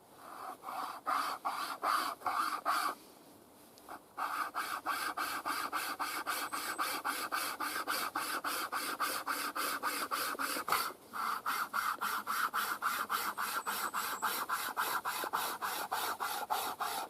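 A small saw from an SAS-type combat survival kit cuts a seasoned, fairly hard wooden stick in quick, regular rasping strokes, close and steady, with one brief pause early and another short break later.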